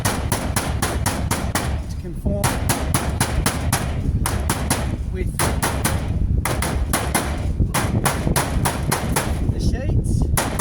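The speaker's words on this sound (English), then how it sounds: "I'm going to take my hammer, and this is a soft zinc flange, so I'm just going to bang it down" Hammer pounding a soft zinc flange down onto a metal roof, rapid continuous blows in fast bursts broken by brief pauses, loud and close, with someone briefly speaking under the banging.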